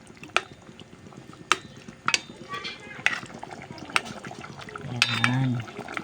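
Pork in coconut milk with kamias simmers in a pot, a soft bubbling background broken by sharp clinks of a utensil against the pan and a low rumble near the end.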